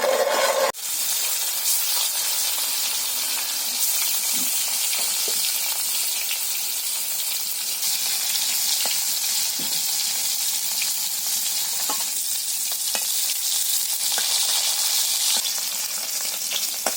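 Pointed gourd (potol) fries in hot spiced oil, giving a loud, continuous sizzle and hiss close up that lasts throughout with no talk.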